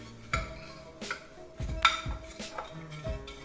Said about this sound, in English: Then we'll stir that in.